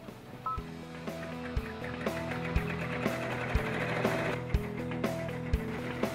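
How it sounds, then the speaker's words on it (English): An embroidery machine runs at 900 stitches per minute, stitching a cap held on a Durkee cap frame, with steady rhythmic mechanical ticking and clacking, regular thumps roughly once a second, and shifting tonal motor whines, close and fairly quiet. "I've got the machine running at 900 stitches per minute, and with the Durkee cap frame, there's no vibration or bouncing around of the frame"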